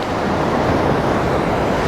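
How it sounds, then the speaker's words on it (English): Ocean surf washes up a beach beside a rock platform at sunrise, a steady broadband rush of breaking water running back down the sand, loud and continuous with some wind noise on the microphone. "I've got the waves washing up around and running back down"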